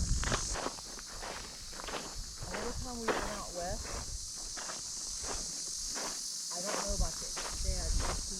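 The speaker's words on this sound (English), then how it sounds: "Lots of flies and insects along the trail." Insects buzz and chirp steadily along a canyon hiking trail, with footsteps crunching throughout and a voice speaking over them.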